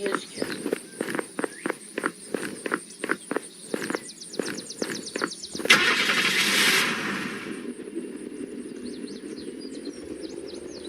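Cars in the video game Unturned: a run of regular rhythmic thumps like footsteps, then an engine starting with a loud burst and settling into a steady mid-pitched running hum that fades to a quieter drone.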